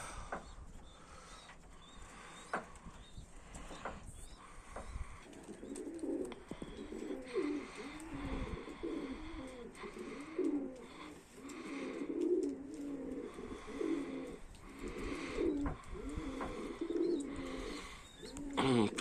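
Pigeons cooing repeatedly in a steady, rhythmic murmur over an outdoor background, moderately close, with no voices in the clip.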